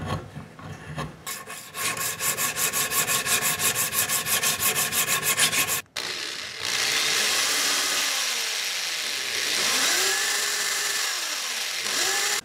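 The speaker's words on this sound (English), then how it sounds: "This is a sharp chisel. And I can only scrape off a little bit at a time." Sharp chisel scraping a carved anglerfish fishing lure body, a loud rhythmic rasping of quick close strokes at first, then a steadier continuous scrape with shifting tone, no talk.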